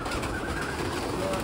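Pigeons cooing in a loft among many birds, soft low murmuring coos blended into a dense, steady background of flock noise throughout, fairly loud and with no speech.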